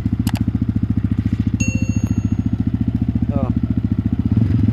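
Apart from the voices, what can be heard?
Yamaha WR155R motorcycle engine revving with stock exhaust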